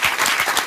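Brief burst of audience applause at a town hall hosted by Arnold Schwarzenegger, dense clapping from a crowd honoring a young woman, steady and fairly loud for under a second.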